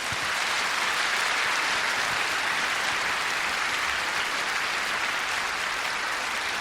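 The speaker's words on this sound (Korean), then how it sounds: "다시 한번 큰 박수 부탁드립니다" Sustained applause from a concert-hall audience after a performance of Debussy's La Mer by a symphony orchestra, dense and steady clapping filling the whole stretch without talk.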